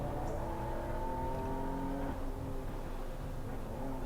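A BMW M3 on the Laguna Seca race track gives off a steady, humming engine drone with shifting tonal harmonics, moderately faint and continuous throughout, with no voices.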